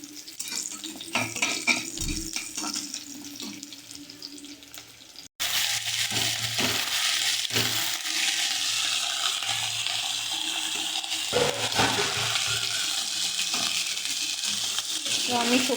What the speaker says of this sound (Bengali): তো আমি সবজিগুলো এখন দিয়ে দিয়েছি ফোড়নের মধ্যে, ভালো করে নেড়ে দিচ্ছি।